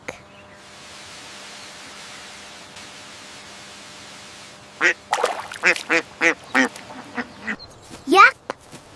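A duck quacks in a rapid series of sharp, loud nasal calls in the second half, after a stretch of faint hiss and low background noise.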